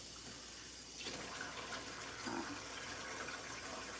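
Hot water runs from a kitchen tap during home cooking, a steady close hiss and gush of flow that swells after about a second and continues to the end, with no talk.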